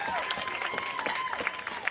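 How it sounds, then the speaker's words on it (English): Outdoor rally crowd clapping at a reparations event in Atlanta, a scattered steady patter of many hands with a tonal whistle-like line running across, voices mixed in underneath. "Yeah, you can clap for that."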